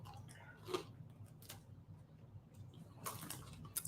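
Soft, close chewing of food, with a few quiet crunchy bites and mouth sounds spaced out over a quiet room.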